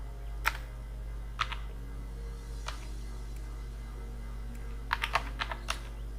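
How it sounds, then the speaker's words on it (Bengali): Sparse keystrokes on a computer keyboard tap out quietly over a steady low hum, a few isolated presses early on and then a quick burst of clicks near the end. "টাইপ হচ্ছে"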